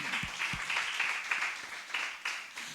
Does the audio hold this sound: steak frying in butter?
no